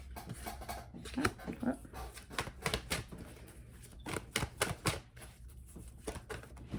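Tarot cards being shuffled at close range, giving rapid riffling clicks and flutters in short irregular bursts, with occasional faint handling noises between them.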